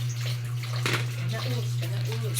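Meat is washed under running water, a steady close gush with splashes and a constant low hum, while a person talks over it.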